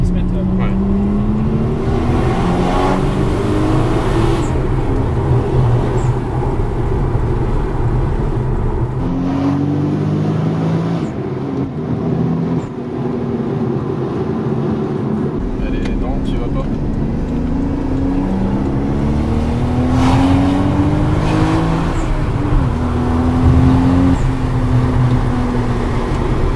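A Toyota Supra accelerates hard, the engine climbing through rising revs in repeated pulls with a gear-change dip midway, loud and close inside the cabin while people talk over it.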